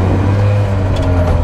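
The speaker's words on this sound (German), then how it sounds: "Ein Zweitaktermotor, klar. Made by Piaggio. Erster Gang rein." A Piaggio Ape 50 three-wheeler with a two-stroke engine pulling away in first gear, a loud, steady low engine drone with a buzzy rasp, heard close up throughout.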